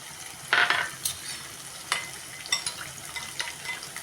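A burst of sizzling from a hot pan, then scattered scraping and clinking as thick tamarind gravy with turmeric and chili powder is stirred for Tamil sundakkai kulambu, with a soft frying hiss underneath.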